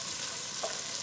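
Onions fry in butter and avocado oil in a pot, a steady close hiss of sizzling with a faint stirring scrape in the middle of a brief moment.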